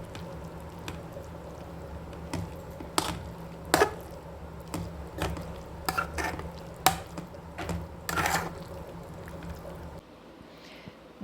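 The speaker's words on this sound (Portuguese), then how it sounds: "Vou misturar tudo agora numa panela só." A spoon stirs potatoes, cream and a calabresa sausage sauce together in a single pot, with scattered close scrapes and knocks against the metal at an uneven pace, and a quiet stretch at the end.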